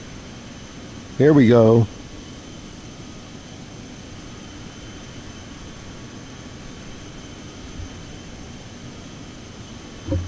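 A Citation 750 jet in Microsoft Flight Simulator 2024 on PS5 holds a steady, low engine drone during takeoff, and someone speaks briefly near the start.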